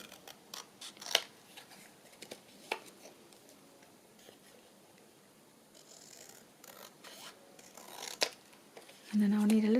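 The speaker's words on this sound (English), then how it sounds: "Cut that down a bit more." Scissors snip and trim a paper border for a decorated bird journal, a series of close, sharp cuts spaced irregularly with quiet pauses and light paper handling between them.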